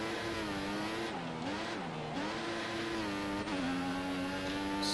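An engine roars as a Formula 1 car accelerates at full throttle in the F1 2014 video game, its loud, steady tone rising through quick gear changes.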